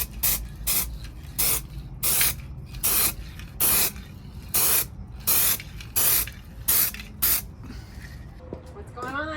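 Weld-through primer sprayed from an aerosol can onto bare metal during a Beetle and BMW Z3 body swap, about a dozen short hissing bursts in a steady rhythm, fairly close, ending with a brief rattle.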